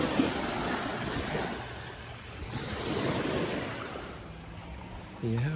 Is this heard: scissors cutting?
no